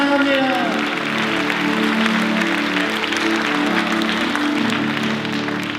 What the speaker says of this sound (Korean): 우리 주님께 영광과 사랑의 박수 올려드리도록 합니다.